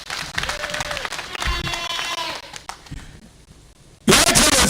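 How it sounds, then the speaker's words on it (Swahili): An audience at a DP political gathering in Kenya applauds, a continuous patter of clapping under a voice. The clapping swells loudly near the end. "Ipigieni makofi."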